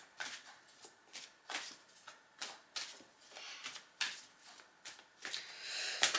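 Tarot cards being shuffled close up, a rhythmic series of crisp riffling bursts about every half second, fairly quiet and with no voices.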